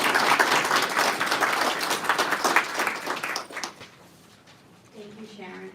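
Audience clapping at a community awareness event, a fairly loud burst of many hands that tapers off after a few seconds, followed by quiet and a voice beginning to speak.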